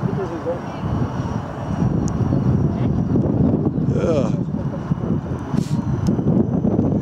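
An RC model motorsailer cruises on a lake under motor power, a thin, steady whine and hum carried over a broad wash of wind and water noise, with faint voices in the background.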